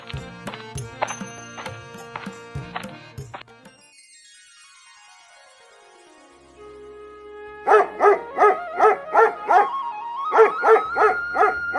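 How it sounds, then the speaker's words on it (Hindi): A dog, hurt and in pain, gives loud rhythmic barks and yelps in close bursts, with a falling whine between the groups, set over a musical backing in a dramatized village story. "जब कुत्ते को दर्द हो रहा था तो वह जोर जोर से भौंक रहा था।"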